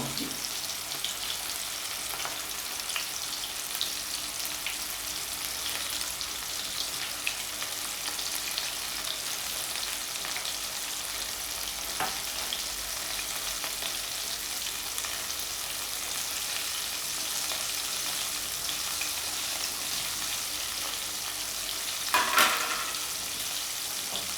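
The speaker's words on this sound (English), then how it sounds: "we're gonna fry the chicken wings, I would say for about 12 minutes" A continuous bubbling sizzle of chicken wings deep frying in hot oil outdoors, steady and close, with an occasional clatter, no talking.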